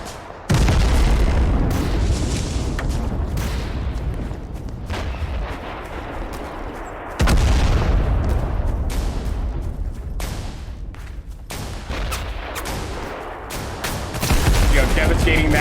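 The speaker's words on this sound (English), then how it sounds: "there's the artillery strike" Heavy artillery strike explosions in a modern war first-person shooter, loud booming blasts with dense rumbling gunfire landing close, big impacts near the start and around seven seconds, continuing chaotic bombardment throughout.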